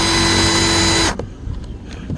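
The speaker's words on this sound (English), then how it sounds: "I'm going to tighten that drill bit." A power drill whirs loudly and steadily for about a second while its bit is tightened, then cuts off, leaving faint clicks and handling noise close by with rain dripping in the background.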